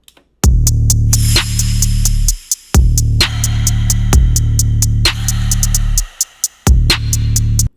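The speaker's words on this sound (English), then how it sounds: "me recording myself doing whispers, and then I added a lot of reverb and effects to it" Whispered voice recordings drenched in heavy reverb and effects, heard as loud repeating pulses with long washy tails, set against sharp rhythmic ticks that cut in and out in bursts.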